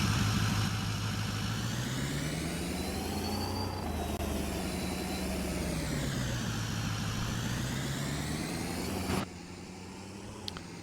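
In Farming Simulator 22, a modded truck's engine idles with a steady, droning hum that rises and falls slightly for about nine seconds, then drops to a quieter background level.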